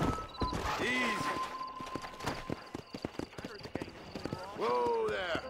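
Horse hooves clip-clopping in the Red Dead Redemption video game, a steady rhythmic trot between neighing whinnies at the start and end, with game effects around it.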